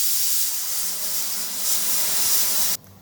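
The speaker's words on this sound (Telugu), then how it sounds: "మమ్మీ పప్పు విజిల్స్ వస్తున్నాయి." A pressure cooker whistles as dal (gongura pappu) cooks, giving a loud, steady rush of steam hiss for almost three seconds before it cuts off abruptly.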